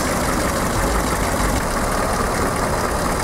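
A Volvo 240 engine idles at normal speed, a steady, even mid-low running hum with a faint hiss on top, close by and continuous with no talk.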